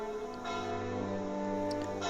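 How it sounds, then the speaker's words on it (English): Church bells ring out on Christmas morning from an old church on a hill, sounding as sustained, resonant tones with overlapping strikes and a long ringing decay, with no voices. "It was the sound of bells coming from the old church on the hill"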